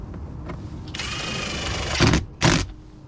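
A bolt being driven back into a Chevrolet Volt window regulator, a sustained mechanical whirring from a power tool followed by two short loud ratcheting bursts, close up with no talk.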